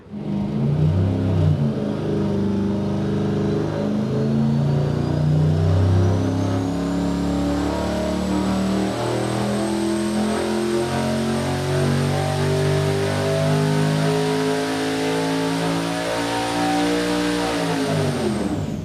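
A 1,500HP junkyard short block engine on a dyno pull with 22 pounds of boost revs steadily higher, a loud, sustained rising roar with a climbing whine from the boost, then drops off sharply at the end.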